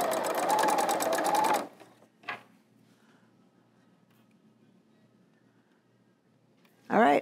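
An L890 serger overlock machine stitches in a fast, buzzing burst for about a second and a half, then goes quiet with a short tap, and a brief second run starts at the end, all close up.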